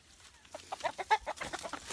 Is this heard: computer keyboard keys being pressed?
no